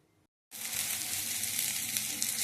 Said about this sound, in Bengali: এবার আমি গরম তেলের মধ্যে মশলাটা দিয়ে ভালো করে কষিয়ে নেব।